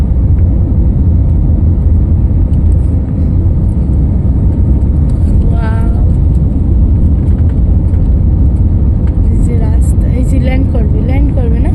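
Cabin of an airliner landing at Kolkata airport, a loud steady engine and airflow rumble filling the space, with voices talking excitedly over it.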